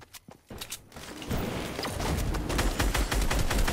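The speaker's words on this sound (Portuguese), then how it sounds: "esse Thor tá atirando já" Rapid Fortnite gunfire in a Rally Royale match, a few sparse shots at first, then a dense, sustained volley of fast, loud bursts.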